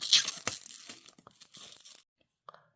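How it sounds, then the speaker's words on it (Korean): Plastic shrink wrap is torn off a book by hand, a run of close, crisp crinkling and ripping bursts that stops abruptly, followed by a couple of faint rustles. "비닐도 안 뜯었는데 뜯어서 그냥 한번 보고 싶다."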